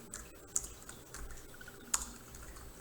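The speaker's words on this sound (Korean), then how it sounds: "타이핑 한번 해보겠습니다" Computer keyboard typing: a few sparse, close key clicks with irregular spacing over quiet room tone.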